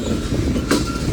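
A Union Pacific mixed freight train passes near Central Avenue, a loud close rumble with a brief sharp clank or squeal of wheels, no voices.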